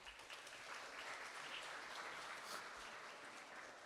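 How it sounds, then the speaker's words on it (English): Audience applause at an evening Celebration of Diversity event in Lansing, a steady wash of clapping from a sizeable crowd that holds evenly for a few seconds without letting up. "Please give yourself a round of applause."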